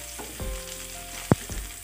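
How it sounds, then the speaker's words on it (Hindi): Chopped garlic frying lightly in a pan for chilli chicken, a steady soft sizzle running throughout with one sharp clink partway through; no talking. "जो चॉप करके रखा हमने, और इसको करते हैं हल्का सा फ्राई,"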